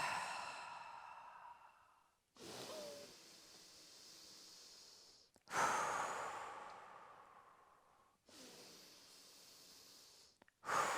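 Slow, deep breaths during a breathing exercise for a lumbar disc bulge: four long inhales and sighing exhales, each lasting a few seconds with brief pauses between, close and fairly quiet, with no talk over them.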